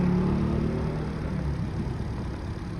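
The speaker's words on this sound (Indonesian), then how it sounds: "Oke, ini untuk crankingnya." A Ford Fiesta engine cranking on a heavy, labouring starter, a loud low steady churning drone close up and alone, no talking.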